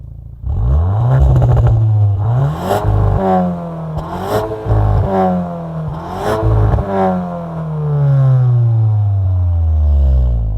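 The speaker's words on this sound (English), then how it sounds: "Now let's experience the exhaust." A VW Arteon R Shooting Brake exhaust roars through repeated sharp revs, each burst climbing and falling away with crackles, loud and close, with no one talking.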